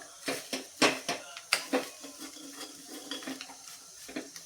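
Cashew and almond slices stirred into a pan for sweet coconut rice (narali bhat), with a quick run of utensil clinks and scrapes against the pan over a light sizzle, close and fairly loud.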